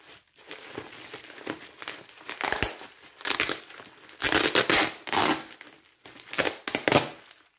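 Plastic packaging pouch from a craft-supply unboxing being opened: crisp crinkling and crackling in irregular bursts, close and fairly loud, with short quiet gaps between handlings.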